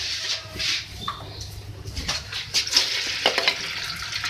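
Beef and cauliflower being stirred in oil in a pot give scraping, clinking stirs over a soft sizzle, with sharp metallic taps standing out near the end, close and moderate.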